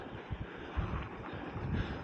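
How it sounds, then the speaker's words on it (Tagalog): Faint wind buffets the microphone in low, uneven gusts, with no other clear sounds, while riding a bike with MTB tires on a sunny winter day. "Ayan, humahangin guys."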